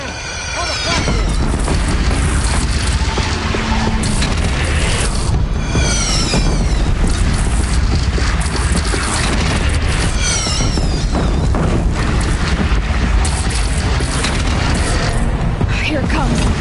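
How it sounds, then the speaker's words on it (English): Heavy cannons fire from a platform in a video game battle, a dense run of loud booming blasts and explosions over continuous roaring action noise. "Take up a cannon on the platform."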